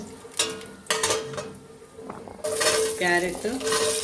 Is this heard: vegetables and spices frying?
yes